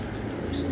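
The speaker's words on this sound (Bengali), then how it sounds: "খাঁচার সাইজটা একটু ছোট আর কবুতর হইলো অনেক ছটফটে" Restless pigeons in a small cage flutter and coo close by, a short burst of wing rustling and soft calls.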